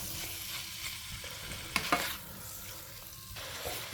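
Mushrooms stir-fried in a pan sizzle steadily at close range, with a couple of sharper spatula scrapes and clatters partway through.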